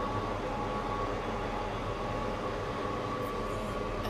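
A train in the Roblox game Stepford County Railway runs steadily along the line. Its rumble and hum stay constant and fairly loud throughout, with no talking.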